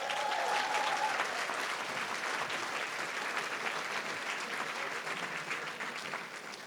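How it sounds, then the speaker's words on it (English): Steady applause from a crowd, dense and sustained, fading slightly toward the end. "Clap for that."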